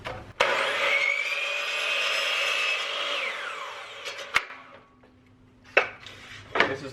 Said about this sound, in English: First thing I want to do is square off the end of a piece of trim here.